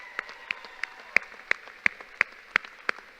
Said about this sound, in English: So please, can our class and everyone please give a round of applause in recognition of those giants.